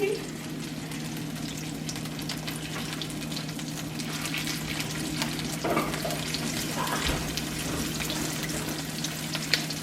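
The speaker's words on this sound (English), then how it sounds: "you're basically frying it until it's like golden brown" An empanada frying in oil in a pan, a constant close crackling sizzle with a low steady hum underneath, lasting throughout with faint background voices.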